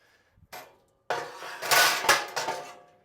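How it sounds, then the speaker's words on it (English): Metal cooking grates lifted out of an offset smoker, sounding as a few sharp clanks and scraping rattles of metal on metal, close and loud, with brief silent pauses between. "We're gonna take out all the grates"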